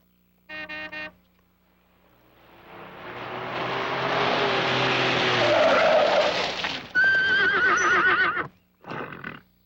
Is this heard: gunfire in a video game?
no